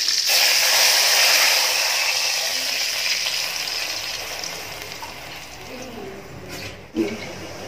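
Tamarind water poured into a hot pan for a country-style brinjal gravy, a loud frying sizzle that slowly settles into a softer bubbling hiss, ending with a utensil knock.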